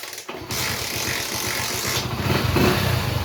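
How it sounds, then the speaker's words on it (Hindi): A motorcycle engine is started and settles into a steady idle, its chugging pulse close and continuous with no talk over it. "तो चलिए बाइक को करता है स्टार्ट।"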